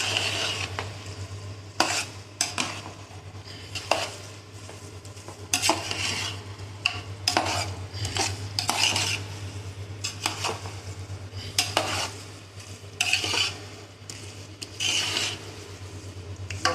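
Cooked rice being stirred into mutton biryani in a pot, with repeated scraping and clinking of a spoon against the metal sides in uneven bursts over a steady low hum, close and moderately loud, no talking.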